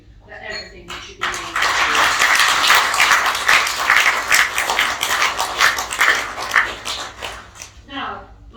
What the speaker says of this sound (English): I'm sure we all want to applaud you for everything that you've been